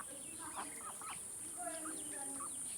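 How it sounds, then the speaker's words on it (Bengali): Poultry calls at a home duck farm, a mix of short quacking and clucking bird calls scattered through the clip over a steady high-pitched background hum. "অনেকগুলো হাঁস পোষা হয়েছে বাড়িতে।"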